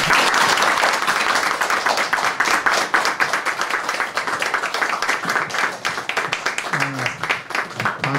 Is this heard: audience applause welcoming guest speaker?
yes